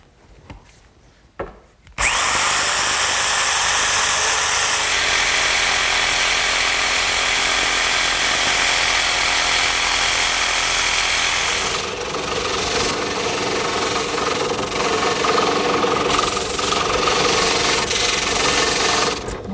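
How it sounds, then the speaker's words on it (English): A handheld jigsaw cuts along a traced outline in a poster board template. After a few quiet knocks, the saw starts up and runs loud and continuous at close range, with its pitch shifting slightly as the cut goes on. "I'll cut it out using my handheld jigsaw"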